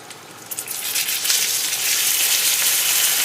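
Shrimp dumplings frying in a hot pan of oil sizzle and crackle loudly and steadily once water is poured in, the hiss building into a constant close roar.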